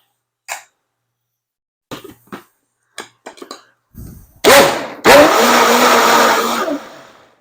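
A few short knocks and clatters, then a loud blender starts up and runs steadily for a couple of seconds, coarse and whirring, before winding down, mixing a marinade for a chicken and potato tray bake.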